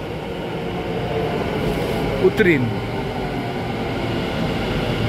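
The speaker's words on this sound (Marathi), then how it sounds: "ही आता मोटेरा स्टेडियमची आली आहे मेट्रो" Ahmedabad metro train pulling into a station, steady low rumble and hum with a brief squeal midway, while a person speaks nearby.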